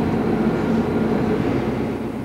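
Low continuous rumble and roar of a London Underground Jubilee Line train running through a tunnel under the River Thames, a steady, loud, close rolling drone with no voices.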